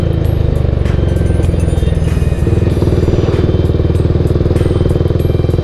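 Yamaha MX King motorcycle being ridden out of town, its engine thrumming loudly and continuously with a rapid steady pulse and rattling mechanical clatter close up.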